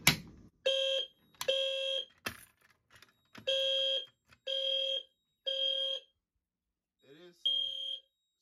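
A fire alarm blares in a bedroom in repeated loud beeping bursts separated by short gaps, with a brief voice near the end.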